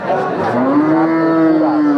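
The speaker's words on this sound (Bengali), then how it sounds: "কুরাজ জাতের গরু তিয়াত্তর হাজার টাকা দাম চাচ্ছে" A Kurag-breed cow at the Jhenaidah cattle market lets out one long, loud, close moo that lasts the whole moment, with no talking over it.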